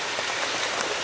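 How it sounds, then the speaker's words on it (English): Light rain falling during an afternoon thunderstorm in Crestline, California, a continuous close patter of drops on surfaces, steady and even with no voices. "Light rain."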